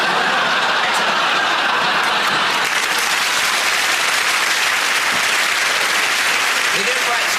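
A studio audience at a comedy sketch show applauds, a dense, steady wash of clapping that stays loud and even throughout, with faint laughter mixed in.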